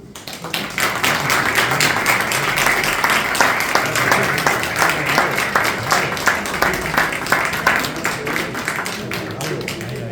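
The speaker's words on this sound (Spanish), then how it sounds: "Un aplauso, ¿no?" Audience applause at a science talk event, Hoyo conCiencia, a loud close wash of clapping with distinct sharp hand strikes running steadily for the whole stretch, some voices mixed in.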